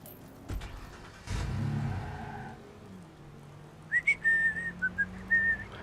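A stolen van in a video game pulls away, heard as a short burst of engine rumble followed by a low steady drone, with thin whistling tones chirping over it at the end.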